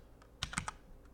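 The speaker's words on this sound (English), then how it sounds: "What you do is you type in touch and then the name of the file." A command being typed on a computer keyboard at a command line: a short burst of three or four crisp, close key clicks with no talking.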